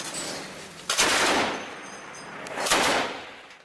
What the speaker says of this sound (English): the Russian actor is seen shooting an automatic weapon towards Donetsk International Airport